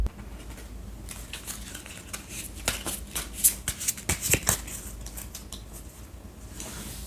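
Tarot cards are shuffled and drawn in a quiet room, a soft steady riffling that turns into quicker crisp slaps and flicks in the middle, then settles back to faint handling.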